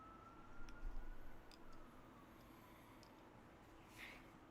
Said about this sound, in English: Yes, there's a police siren outside.